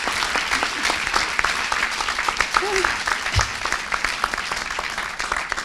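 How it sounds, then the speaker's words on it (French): A crowd claps for a student at a closing ceremony for an equality event, with a dense, sustained round of applause that continues steadily throughout, close and fairly loud, with a brief voice in the middle. "bravo Laura, je crois qu'on peut l'applaudir."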